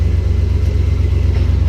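A truck engine fitted with a knock-off Rochester carburetor idles close by, giving a steady, deep, rhythmic low rumble with an even pulsing beat.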